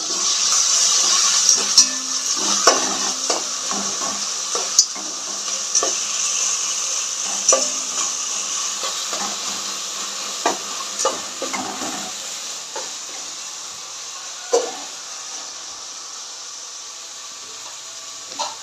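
Onions and ginger fry in a pan for bagara rice, with a steady hiss of sizzling oil and repeated scraping knocks of a spoon stirring throughout, loud and close.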